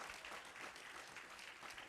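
Faint, steady applause from a church congregation fills the whole short stretch, a dense wash of clapping with no voices over it.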